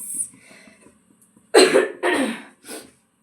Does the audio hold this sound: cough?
yes